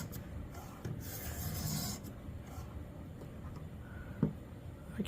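A knife blade rasps through a Xarilk Gen3 sharpener, with close, dry filing and rubbing strokes running together over a couple of seconds, then quieter scrapes and a single sharp tap near the end.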